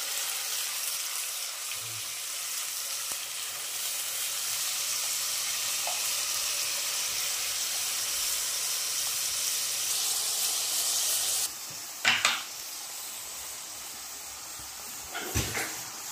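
Tomato puree hitting hot ginger-garlic paste in a frying pan for chole, a steady loud sizzle and hiss with a few clatters of a spoon or utensil toward the end.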